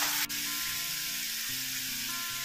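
Chopped tomato sautéing with dried prawns in a pan, giving a steady, close, continuous sizzle with no talk over it.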